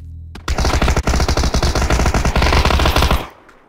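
A sustained burst of rapid automatic gunfire in the video game PUBG, loud and close, with sharp shots repeating over about three seconds before it cuts off.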